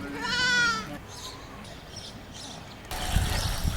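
A goat bleats loudly with a wavering, tremulous cry early on, followed by quieter murmuring voices and a burst of low rumbling noise.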